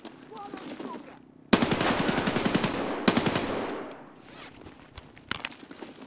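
An automatic rifle fires long bursts of rapid shots in Escape from Tarkov, two sustained strings of loud close gunfire with quieter sounds before and after.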